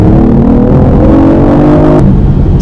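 A BMW i8 pulls away from a standstill with a steady, loud engine drone whose tones climb gradually, then shift abruptly about two seconds in as it keeps building.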